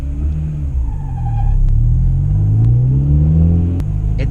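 A Honda Integra Type R pulls hard while driving, its engine note climbing through the revs in a loud, rising rumble, then easing briefly before building again, heard from inside the car.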